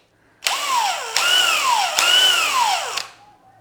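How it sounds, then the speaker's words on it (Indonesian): A DeWALT DCD999N cordless brushless hammer drill whirs loudly in three bursts of about a second each, each pitch dipping as the motor loads up, then briefly stopping before the next run, with no talk. "Gak ada ngampunnya ini bor."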